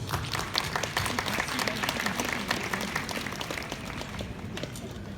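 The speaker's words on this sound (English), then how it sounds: "Let's give her a nice round of applause, please." A crowd applauds steadily for several seconds, a dense wash of clapping hands that fades slightly toward the end.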